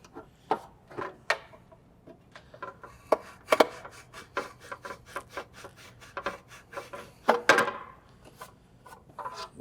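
A hand drill is twisted into carbon fiber, producing close, irregular scraping and rasping bursts separated by short pauses, alone without talk.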